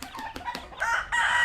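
Ulikba fighting roosters at a poultry farm: a few short clucks, then a rooster launches into a clear, close crow.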